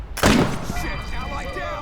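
A single loud gunshot in the Wasteland 3 video game lands as a sharp blast with a ringing tail, followed by lingering tonal game sounds.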